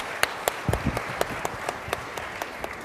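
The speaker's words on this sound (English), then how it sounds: "let's firstly give a round of applause" Scattered, sparse clapping from a small audience after a keynote session on urban and environment policy, a handful of distinct claps at an uneven rhythm, moderately near.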